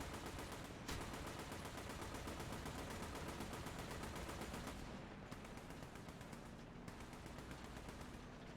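Rapid, continuous bursts of a tank's machine gun in War Thunder hammer away up close, with a brief pause midway before the fire resumes.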